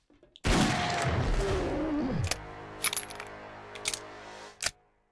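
A single heavy magnum gunshot in the survival game 7 Days to Die booms loud and close, then a long ringing decay trails off, followed by a few faint clicks and thuds.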